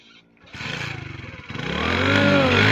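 A motorcycle engine is revved while the bike stands still, rising from a low putter to a sharper, louder whine that climbs and holds over a few seconds.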